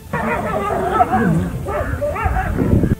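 A dog barks and yips repeatedly, close and loud, in a short burst of agitated barking during a fight with a lion.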